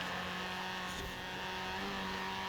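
A rally car engine in the Forza Rally video game revs high through very short gears, giving a steady, droning motor note at moderate level with no pauses.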